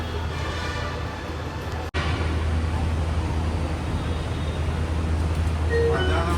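A Hyderabad metro train rumbles steadily at close range with a low, continuous hum, broken briefly by one sharp dropout, and a faint tonal chime appears near the end.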